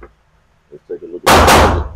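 A Mossberg 590 or Maverick 88 pump shotgun fired at an outdoor range: one loud, close blast with a brief decaying tail, following a few quiet spoken words.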